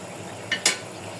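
Okra added to a pan of frying rui fish and stirred, a quiet steady sizzle broken by two quick metallic scrapes of a spatula against the pan.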